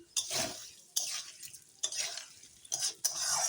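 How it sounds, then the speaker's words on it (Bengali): Moong dal fries with potatoes in a pan, bursts of sizzling interrupted by four distinct scraping stirs of a spoon against the metal. "লাল লাল করে ডালটা এখন আমি ভেজে নেব"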